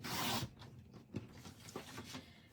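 Cardstock being trimmed to card size on a paper trimmer, a short scraping slide followed by faint rasping strokes, quiet and close with no voices.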